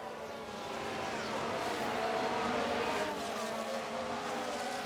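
Race cars in F1 Manager 23 roar past in a sustained, loud engine drone with shifting pitch as cars battle through a double overtake, no voices present.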